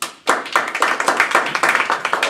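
Audience at a Toastmasters club anniversary celebration breaking into applause, a close burst of many hands clapping steadily after a brief quiet start.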